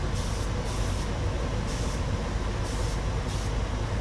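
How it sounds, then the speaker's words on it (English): An ordinary paint spray touch-up gun hisses in a continuous burst while coating a diecasting die, loud and close, with brief pulses in the hiss and no talking. "using an ordinary paint spray touch-up gun, when we get it working right, the die is lightly and evenly coated with the spray"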